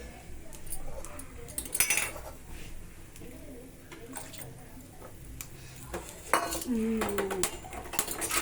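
Steel pots and cooking vessels clank and clink repeatedly in a home kitchen where masala chai is being made, with sharp metallic knocks scattered through the clip and a louder cluster of clatter near the end.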